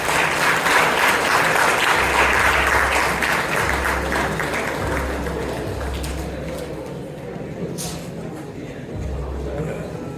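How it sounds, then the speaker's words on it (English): An audience at an event gives a sustained round of applause for an honoree, with a steady, broad wash of clapping that lasts throughout and eases slightly. A low humming tone comes and goes underneath it. "I request all of you to please give a round of applause to Chartered Accountant"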